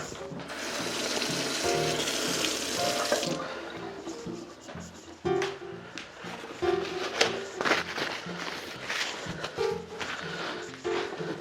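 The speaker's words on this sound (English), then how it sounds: "I'm just going to wash my knife." Tap water runs steadily into a kitchen sink while a knife is rinsed under it, the flow splashing and shifting as the blade moves through the stream, with clinks and drips close by; the flow eases off partway through.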